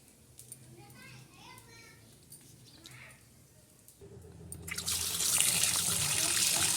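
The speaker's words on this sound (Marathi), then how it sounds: "भाजी याच्यामध्ये भरून घेते म्हणजे कसं नळाखाली लवकर धुतल्या जाते" Children chatter and play in the background, then running tap water gushes in loudly and steadily over vegetables being washed for the last few seconds.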